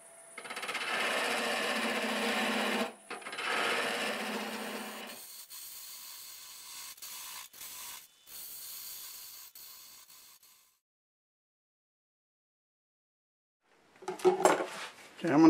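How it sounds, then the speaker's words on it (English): A gouge with a 40-40 grind cuts chestnut end grain on a wood lathe, giving a steady broadband shearing hiss in two long passes, then a quieter tapering stretch, silence, and a final burst of cutting near the end. "I'm going to use this 40-40 grind that I have because it's supposed to cut through end grain better"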